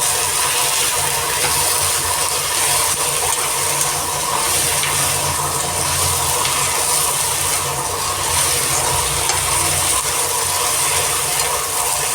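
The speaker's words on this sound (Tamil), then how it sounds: "மெயினான டிஷ் வெண்டைக்காய் வெண்டைக்காய் நல்லா வதங்கணும்" Okra sautés in a pan for lunch, a loud continuous sizzle with steady stirring and scraping of the spatula, close and with no talk.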